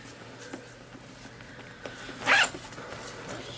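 A single quick zip sounds on the pocket of a Michael Kors Evie large pebbled leather shoulder bag, a short bright rasp standing out against a quiet room.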